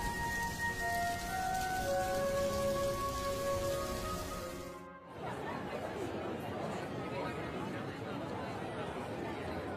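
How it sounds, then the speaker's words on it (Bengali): Steady cartoon rain falling throughout, a dense wash of drops that shifts in tone midway, with a tonal hum in the first half and no distinct thunder crack. "বৃষ্টির মধ্যে যাসনি রে এভাবে, বাইরে বাজ পড়ছে তো।"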